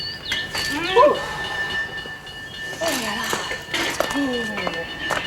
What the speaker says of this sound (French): on entend une locomotive siffler